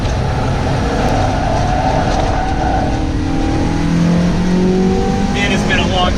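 A stock Mazda Miata is driven hard, its engine droning loud and steady with rising revs and tire and road roar throughout, a voice heard over the car.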